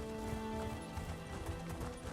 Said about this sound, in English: It's the Imperial Horse.